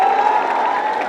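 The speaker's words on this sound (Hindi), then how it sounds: "इसके लिए जोरदार ताली बजाओ सब लोग।" A large crowd at a Chandrashekhar Azad rally in Durgawati, Kaimur claps and cheers in a brief loud burst, with a steady tonal hum running through it.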